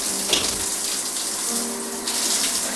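Shower water runs steadily in a scene from Gus Van Sant's film Elephant, a continuous hiss with faint shifting tones and no talk.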